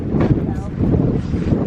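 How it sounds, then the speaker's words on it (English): Steady wind buffets the microphone with a low, continuous rumble outdoors at a goat farm, while a voice speaks over it. "It's pretty windy."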